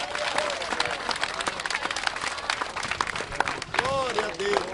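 A church congregation in the Holy Land claps in praise while worshippers call out, a busy mix of hand claps and raised voices at moderate volume, with several sung or shouted notes rising near the end.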